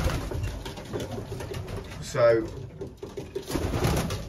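A long-distance racing pigeon of Barcelona stock gives a single soft, throaty coo nearby, between stretches of someone speaking.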